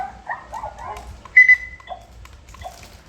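A small toy's tinny electronic voice, then a short recorded dog bark and a bright beep, all faint and close.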